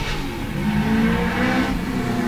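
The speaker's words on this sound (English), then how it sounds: "This car is gorgeous. Listen to this. XE Falcon." An XE Falcon race car at a historic sprint meeting revs its engine hard close by, a loud throaty drone rising in pitch for a couple of seconds with no talking.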